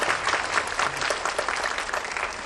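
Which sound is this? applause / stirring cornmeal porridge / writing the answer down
applause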